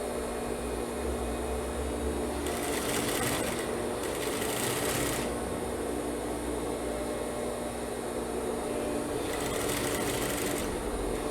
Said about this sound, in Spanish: por ahí vamos a iniciar a coser